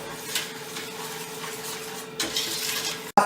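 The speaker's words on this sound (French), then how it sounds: "on rajoute nos 575 g de sucre et on mélange bien" A utensil scrapes and stirs sugar through a thick fruit paste in a pan, a soft continuous swishing with a few louder scrapes and a sharp clack at the end.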